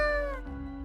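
In the video game Death and Taxes, a cat gives a single clear, close meow that slides downward in pitch and trails off, with no talking over it.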